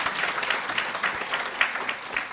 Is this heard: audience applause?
yes